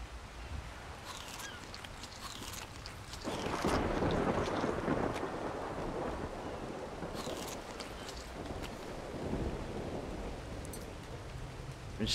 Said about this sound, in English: Thunder don't help, does it?